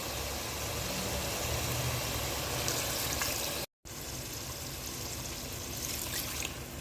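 Water is poured steadily into a pot of chicken kachnar masala cooked in ghee, giving a continuous, even splashing pour. The pour breaks off for an instant midway and then carries on at the same level, with no talking over it.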